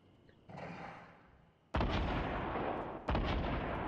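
Gunfire in the Fortnite video game: two sharp loud broadband bursts, each followed by a sustained rumbling decay, after a softer lead-in noise, with no talk over it.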